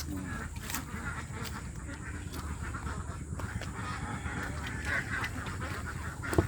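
Ducks quack continuously in a dense, overlapping chorus, a steady flock noise close by with no clear pauses.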